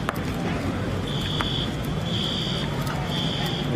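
Store alarms at a looted Aldi blare in repeated steady electronic tones, sounding over a dense background of crowd noise and street commotion.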